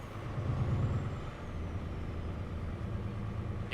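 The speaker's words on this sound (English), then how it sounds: "you can hear the truck exhaust, the engine, and so on" Truck engine idling and rumbling in American Truck Simulator, a steady low drone with exhaust throb and a faint rising whine, continuous and fairly quiet.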